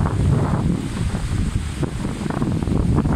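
Strong wind at the seaside in Gruissan, loudly buffeting the microphone in a constant roar, with a possible hint of waves beneath and no one speaking.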